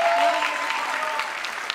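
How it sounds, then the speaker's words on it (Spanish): Strong applause from an audience at a video game expo launch event, a dense steady wash of clapping lasting the whole stretch with faint voices underneath. "Fuerte el aplauso para"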